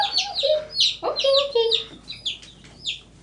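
Young Ameraucana and Rhode Island Red chicks peeping at close range, quick bright chirps in short bursts, with a few lower clucks mixed in.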